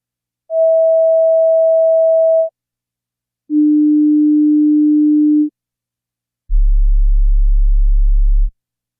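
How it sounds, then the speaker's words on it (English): Three pure sine test tones sound one after another, each lasting about two seconds with short silent gaps: first a mid-pitched tone, then a lower one, then a very deep bass tone, used to check a sound system's frequency range. "Please listen to the following 3 tones."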